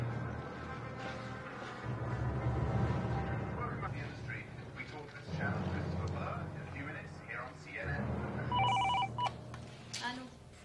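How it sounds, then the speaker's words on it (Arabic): A telephone bell rings indoors in a mystery drama scene, its tone repeating in bursts while voices talk over and between the rings. "نادي للدكتور سرحان تليفون"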